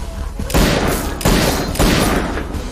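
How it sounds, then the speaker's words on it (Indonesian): Three loud gunshots in a dramatic film scene, each a heavy blast with a long rumbling tail, spaced about 0.7 seconds apart, with no talk over them. "Namun Simon tidak menggubrisnya dan tetap menembak Frank"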